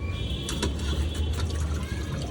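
Water pours and trickles as a container is filled at a street food cart, a steady splashing flow with brief brighter gurgles, close and fairly loud.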